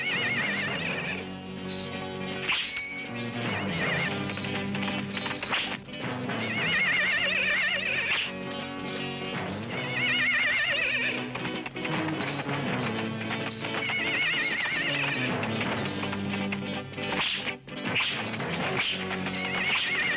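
A horse neighing and whinnying loudly in an action film scene, the calls layered over a dense, continuous soundtrack with hooves clip-clopping and music throughout.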